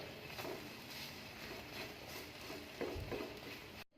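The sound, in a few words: French toast frying in a pan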